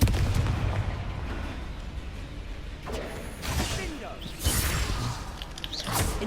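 Fire spells cast in Hogwarts Legacy burst out as several whooshing blasts with crackling flame, set against a busy rumbling game backdrop, while a voice speaks between casts.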